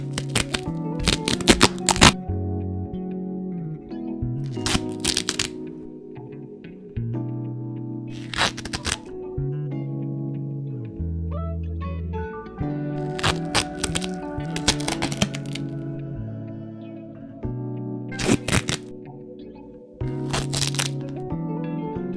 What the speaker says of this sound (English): we'll take off the blue side of the tape, exposing the sticky side